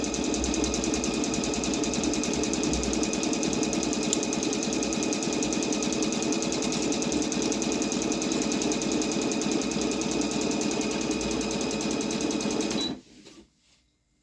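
A Singer SN778 sewing machine stitching a triple stitch: a steady, fast mechanical whir with a rapid needle rhythm that runs loud and unbroken for about thirteen seconds, then stops abruptly.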